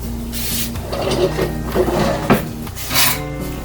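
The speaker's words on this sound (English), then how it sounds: "Let me get my jar ready" Glass jar being handled and set down: close knocks, clinks and light scraping against a hard surface, a few irregular contacts over several seconds.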